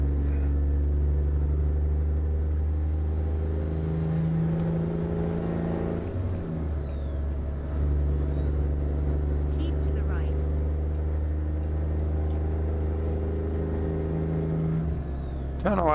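A steady, loud Detroit Diesel DD60 truck engine in American Truck Simulator drones throughout, with rising and falling whines as it shifts through gears, and a hiss near the end.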